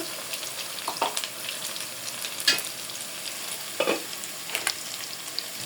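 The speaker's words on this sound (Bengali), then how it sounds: "পেস্টটা ভাজা হয়ে গেছে মাংস দিয়ে দেব" Beef frying in oil with a browned spice paste of cinnamon and cardamom while meat is added and stirred: a steady close sizzle broken by several sharp spoon-and-pan scrapes, with no talking.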